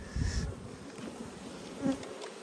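Honey bees buzz near a hive during an inspection. The drone is soft and steady, with a couple of louder swells as individual bees pass close, and no voices are heard.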